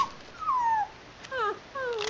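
A dog whimpers in a Bigfoot video game, three short high, falling whines in a row, close and clear against a quiet background.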